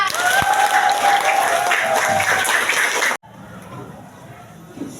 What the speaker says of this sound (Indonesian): tepuk tangan buat Ica.